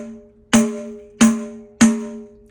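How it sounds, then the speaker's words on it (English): Three open finger strokes on a pandeiro, each a sharp slap with a ringing, pitched drum tone that fades quickly, played at an even, unhurried pace with nothing else heard. "We can play the open finger stroke like this"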